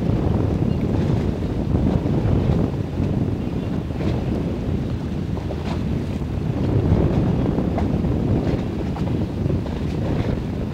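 A small boat motoring across choppy waves, with steady wind buffeting and water rushing and slapping against the hull throughout, loud and continuous with no talk.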